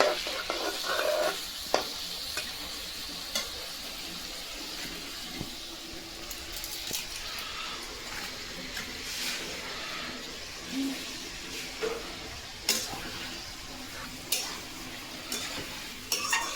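Onion and chicken fry in a pot over a wood-fired clay chulha while being stirred, giving a soft, steady sizzle broken by scattered scrapes and clinks of the spoon against the pot.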